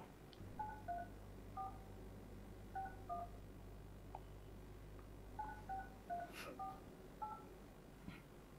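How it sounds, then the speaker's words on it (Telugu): A phone number is keyed in on a telephone, producing crisp DTMF beeps in short clustered groups with pauses between them, quiet and close, with no one speaking. "ఒకసారి ఆ నెంబర్స్కి కాల్ చేసి ఒకసారి మాట్లాడదాం"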